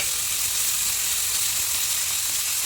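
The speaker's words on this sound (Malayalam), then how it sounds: "സവാള റോസ്റ്റ് ചെയ്യാൻ അങ്ങോട്ട് ഇട്ട് കൊടുക്കാം കേട്ടോ." Sliced onions roasting in hot oil in a pan, a continuous dense close-up sizzle and hiss at an even level throughout, with no talking.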